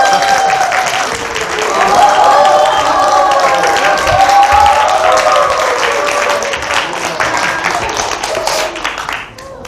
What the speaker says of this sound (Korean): 박수 좀 계속 한번